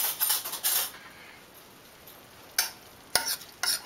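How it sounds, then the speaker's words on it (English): A spoon stirs gravy thickened with cornstarch in a pan, making a few short scraping and clinking bursts against a low background hiss, close and moderately loud, with no talking. "Let's stir."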